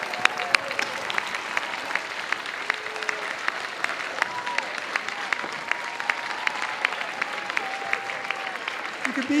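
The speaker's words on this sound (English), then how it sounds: "Please, one more round of applause to the class of 2025 who worked so hard," Graduation audience at Amherst College's 2025 commencement applauding the class of 2025, sustained, even clapping from a large crowd heard at a moderate distance with a few sharper individual claps.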